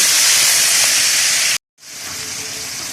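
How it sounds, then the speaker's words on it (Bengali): Water splashes into hot frying spices with chili powder for a potato vegetable curry, giving a loud, steady steam hiss that cuts out briefly midway and then resumes. "এখন আমি মশলাটাকে ভাজার জন্য অল্প একটু পানি দেব"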